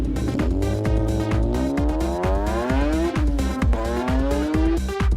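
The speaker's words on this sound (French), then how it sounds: "les Volvo ont montré être les meilleures glisseuses de la journée, avec des dérapages et un contrôle vraiment excellent" Volvo cars drift at a drift competition on a circuit, with loud, sustained rising tire squeal over a rhythmic pulsing engine, close by and continuous.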